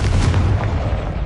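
A Confringo spell explosion in Hogwarts Legacy: a loud, heavy boom that rumbles low and fades over about a second, heard alone.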